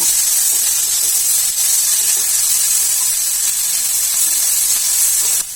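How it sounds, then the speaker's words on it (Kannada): Cumin, grated carrot and chopped coriander sautéing in a pan, a steady close hiss and sizzle that runs unbroken, with no talking, before it drops off abruptly at the very end. "ಇದೆಲ್ಲವನ್ನು ಸ್ವಲ್ಪ ಮಿಕ್ಸ್ ಮಾಡಿ ಹೀಗೆ ಬಾಡಿಸ್ಕೊತಾ ಇರೋಣ"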